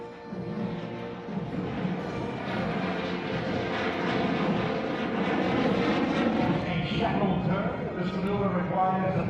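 A J-10 fighter jet flies a display pass at the Singapore Airshow, a broad sustained roar building steadily in loudness from a distance, with a commentator talking over it.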